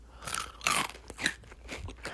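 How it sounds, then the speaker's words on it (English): Crunchy food chewed up close in a quiet room, with a series of crisp, irregular crunches and softer mouth noises between bites. "You have to listen through however many minutes of chewing,"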